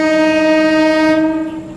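The Puri–Anand Vihar Purushottam Express passing on Indian railway tracks sounds a loud, sustained, steady horn blast that fades out toward the end, with the rumble of the train beneath it.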